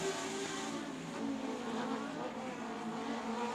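Race cars sweeping into turn 3 on a racing circuit make a continuous, steady engine roar with a slight rise and fall as the field passes. It sounds moderately distant, with no voices.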